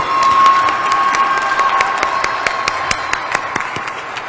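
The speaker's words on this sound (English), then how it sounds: "So how about a round of applause for the proffer?" Audience at the 412th Test Wing annual awards ceremony applauds, a dense, loud roll of clapping with sharp individual claps and light cheering, holding steady throughout.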